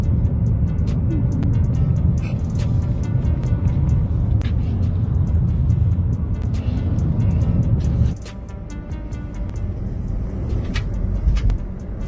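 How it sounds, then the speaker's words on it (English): A car drives through a California wildfire with a constant loud engine and road rumble, wind buffeting and scattered crackles and pops, the roar dropping slightly about two-thirds of the way through. "They are driving car through wildfire."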